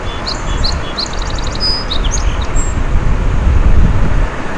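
Birdsong outdoors by a river: bright chirps and short trilled calls repeat over a steady low rumble of moving water and wind.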